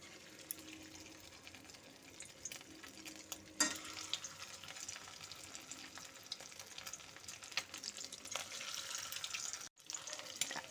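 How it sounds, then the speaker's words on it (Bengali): Marinated egg pieces for Egg 65 frying in hot white oil, a faint, continuous crackling sizzle with an occasional louder splash or clatter, heard alone with no talking. "এখন আমি দিয়ে দিচ্ছি এই ম্যারিনেট করা ডিমগুলো।"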